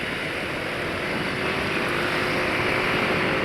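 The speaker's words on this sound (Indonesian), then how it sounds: "Karena deru mesinnya itu di RPM rendah lebih kuat." A modified motorcycle engine drones at low RPM, a steady, loud, continuous hum with a faint tonal whine running through it and no talk.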